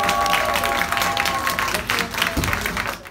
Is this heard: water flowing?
no